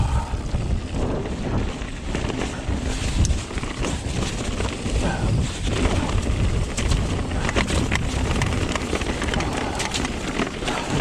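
Strong blizzard wind roars steadily across a mountain trail, buffeting the microphone with dense, gusty rumbling and hiss throughout, with no speech.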